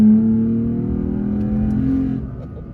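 A 3rd-gen Toyota Tacoma mid-size pickup fitted with a Pedal Commander throttle controller accelerates from a roll, its engine note loud and close, rising steadily in pitch before easing off near the end.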